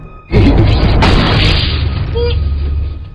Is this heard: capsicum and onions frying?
no